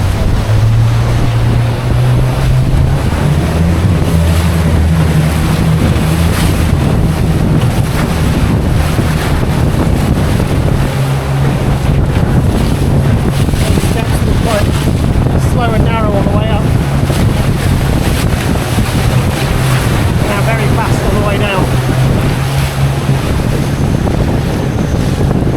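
A motorboat runs down through river rapids in Colombia, its engine droning loud and continuous over rushing water and heavy wind buffeting the microphone throughout.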